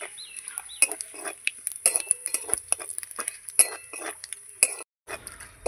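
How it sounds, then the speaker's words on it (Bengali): Dried red chili and cumin seeds tempering in a pan, stirred with a utensil: a busy run of sharp metallic clinks and scrapes over a faint sizzle, close and fairly loud, with no talking. "ফোড়নটা একটু নেড়ে চেড়ে নেব।"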